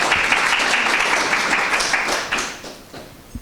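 Audience applause for Rachel at the close of a startup accelerator's final pitch presentations. Steady, dense clapping from a crowd fills the room and then thins out and fades toward the end.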